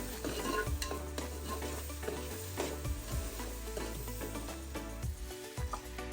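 Homemade masala heats in oil for a crab rassa, a continuous close sizzle broken by repeated scrapes and metallic clinks of a spoon stirring in the pan.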